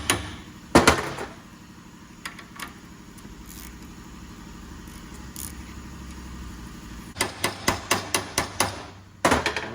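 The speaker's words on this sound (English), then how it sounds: "Hit it too hard and break the nut off the back." Hammer blows on a nut in the front suspension of a third-generation Honda CR-V: a couple of early strikes, a quieter stretch, then a quick run of ringing metallic hits near the end.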